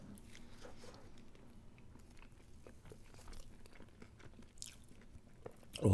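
A Burger King Whopper is chewed close up, with soft, wet, squishy bites and occasional faint crunches in a quiet room.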